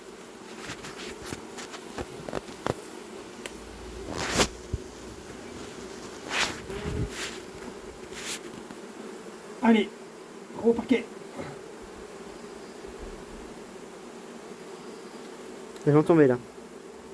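A recently settled swarm of honey bees being recovered at Vaux-le-Pénil buzzes continuously in the background, with scattered knocks and clicks and short bursts of people talking over it.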